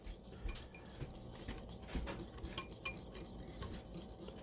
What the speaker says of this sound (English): Take a wire whisk. And we're going to mix this all up with the powdered sugar